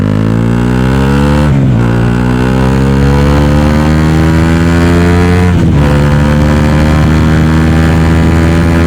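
A KTM Duke 200 motorcycle engine runs loud and close, with a strong steady drone that rises gradually. Two brief throttle dips or blips break it, and no one talks.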